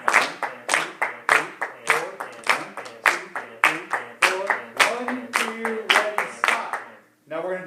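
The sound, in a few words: hands clapping a rhythm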